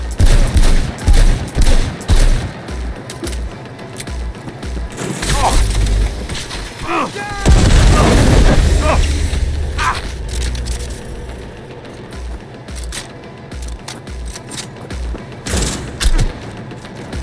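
Close-range gunfire in the video game Cyberpunk 2077 comes as loud rapid bursts, followed by mechanical clatter, a deep boom and a voice speaking, with scattered shots trailing off later.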